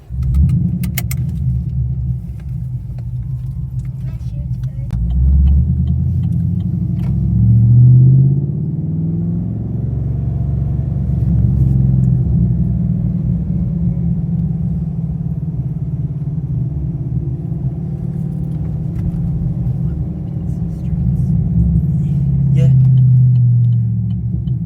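The engine of a modified 2013 Holden VF Commodore SSV Redline rumbles low and steady from inside the car. The drone swells a few times as it revs, and faint voices and cabin noises sit under it.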